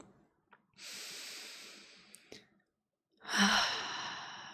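Slow, deep breaths taken close to the microphone: a long airy inhale or sigh, a brief pause with a couple of small clicks, then a louder, breathy exhale that trails off.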